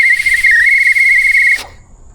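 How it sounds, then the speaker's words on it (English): An old brass-era safety whistle from a 1970s big-block jet boat gives one loud, steady, shrill blast of about a second and a half, then cuts off sharply. "And an old school looking whistle."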